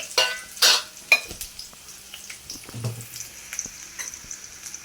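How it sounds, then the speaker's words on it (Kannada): Cumin, mustard seeds and finely chopped onion frying in a little oil in a pan, a soft close sizzle with a few sharp bursts and spoon scrapes early on, then a quieter steady crackle, no talking. "ಇದನ್ನು ಫ್ರೈ ಮಾಡಬೇಕು"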